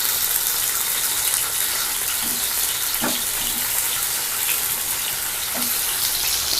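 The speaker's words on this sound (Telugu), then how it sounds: "ఈ టమాటాలు బాగా మగ్గేంత వరకు వేయించుకోవాలి" Chopped tomatoes fry in a pan for tomato and coriander pachadi, giving a steady, soft sizzle and crackle throughout, with a few faint clinks and no talking.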